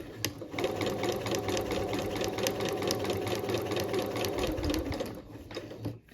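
A sewing machine stitches a seam on a cotton tote bag, a rapid, steady mechanical whir that runs for about five seconds before stopping, followed by a brief clack.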